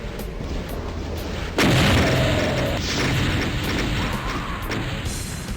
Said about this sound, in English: After defeating the icon, you win lots of glorious explosions